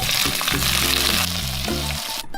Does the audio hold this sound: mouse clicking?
no